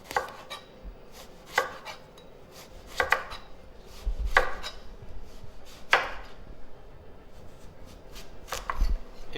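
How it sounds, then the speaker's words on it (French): A knife slicing vegetables into thin, slightly angled slices on a board, sharp chopping knocks roughly every second or so with soft scraping between, close and clear with no voices. "On coupe des tranches un peu de travers."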